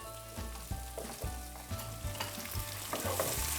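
Leeks and onions fry in a pan with a steady, close sizzle, broken by repeated stirring and scraping strokes throughout; no one speaks.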